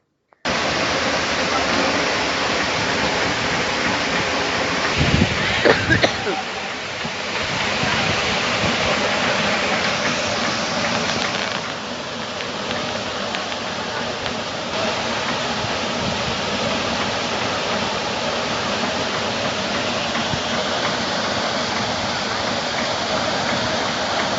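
A burst drinking-water pipe shoots water some sixty feet into the air, a steady, loud roaring gush of spray and splashing that runs throughout, with a brief louder disturbance early on.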